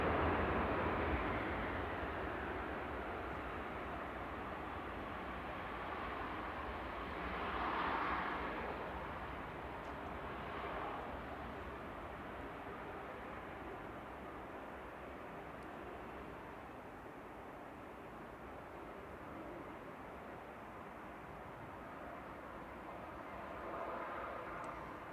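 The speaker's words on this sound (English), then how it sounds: "Brussels, coming in from Brussels with flight 2183. This is OTCH, a 22-year-old A320 Classic." A 22-year-old Airbus A320 Classic on Ryanair flight 2183 from Brussels lands at Manchester Airport, its engine roar fairly distant and steady, swelling briefly as it passes, then a long fading rumble.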